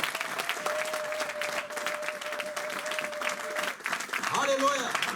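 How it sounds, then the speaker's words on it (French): Applause from a church congregation during a sermon, a steady wash of clapping through the whole stretch with a sustained tone and shouted voices over it near the end. "Est-ce qu'on peut donner une main d'acclamation?"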